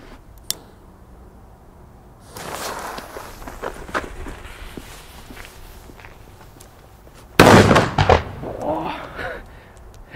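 A Pyrounion Retro-Kanonenschlag firecracker, made in Germany, goes off in one sudden, very loud bang, followed by a settling rustle and patter of falling debris after quieter shuffling sounds.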